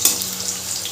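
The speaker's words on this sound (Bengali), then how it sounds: "আলুটা লালচে হয়ে ভাজা হয়ে গেছে" Potato pieces fry to a reddish brown in a pan for a vegetarian soybean dish, giving a steady, close sizzling hiss with faint stirring and no talk.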